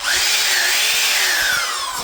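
A power drill whirs loud and close in one steady high-pitched run, its motor pitch wavering slightly before easing off at the end.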